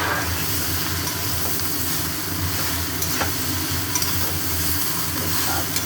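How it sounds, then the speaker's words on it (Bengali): Fish head frying in a pan with spiced, sautéed ingredients, a loud continuous close sizzle and crackle with occasional stirring scrapes over it. "এবার এতে দিয়ে দিচ্ছি মাছের মুড়ো।"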